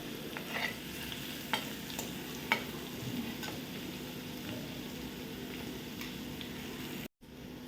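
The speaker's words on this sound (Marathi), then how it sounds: "मिरची आणि लसूण परतून झालं थोडंसं परतून झालं" Slit green chilies and garlic sauté in oil with a soft, steady sizzle and a few light stirring taps, quiet and close, briefly cutting out near the end.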